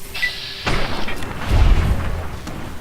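A dynamite blast in Fallout New Vegas: a sharp burst followed about a second later by a deep, rolling boom that lingers with low rumble, loud and close, after a brief high tone at the start.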